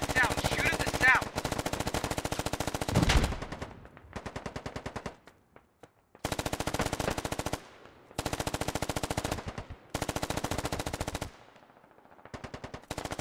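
Automatic weapons in the video game Squad fire long, loud bursts of rapid shots, broken by short pauses and a few quieter gaps, with some talk in the background.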